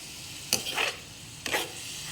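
A Filipino dish being stirred in a pan after water is added, two short scraping strokes of a utensil over a faint background sizzle, quiet and close.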